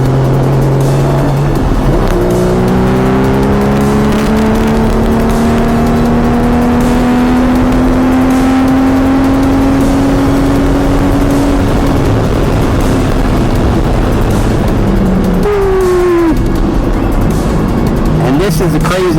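A Porsche 981 GT4 on a track day, its engine climbing steadily in pitch under acceleration, then a gear shift near the end drops the revs before it pulls again, loud and close from inside the car.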